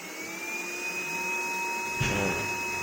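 A KHIND VC9691 cordless vacuum cleaner runs steadily on its medium setting, a continuous close whine with a high tonal pitch, briefly punctuated by a small bump or knock near the end.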